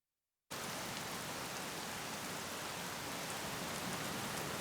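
Steady, dense rain begins abruptly after a moment of silence and keeps falling evenly and close by, a continuous hiss with no voices.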